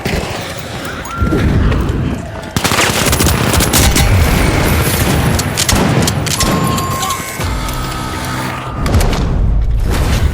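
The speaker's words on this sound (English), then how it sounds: "Outgoing gas grenade!" A gas grenade is thrown in the video game The Finals during a loud match, amid continuous bursts of gunfire, booms and clattering action that stay dense and close throughout.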